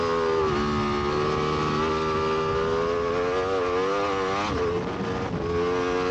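Racing motorcycle on a track, engine screaming at high revs as it carries speed through a corner, pitch swooping down and back up with the gear changes, loud and close throughout with no talk.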